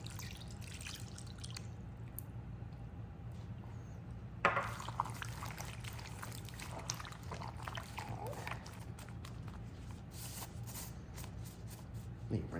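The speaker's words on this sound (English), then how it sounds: "now we'll add in the mojo juice and the orange juice" Mojo juice and orange juice poured over meat for pinchos, a soft steady liquid trickle and drip running nearly the whole time, close and fairly quiet.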